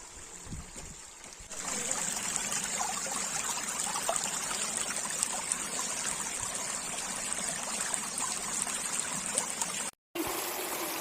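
Natural water from a mountain stream pouring and trickling steadily and close on the Bhorgiri–Bhimashankar trek, a continuous rushing flow that starts after a quieter moment and breaks off briefly near the end.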